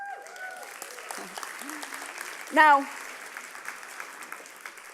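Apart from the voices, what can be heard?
audience clapping for themselves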